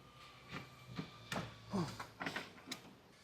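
Inner tie rod on a CFMOTO UForce U10 Pro long travel suspension being tightened with a crescent wrench: a handful of faint, irregular metallic clicks and scrapes spaced through a quiet workshop moment, with no talking.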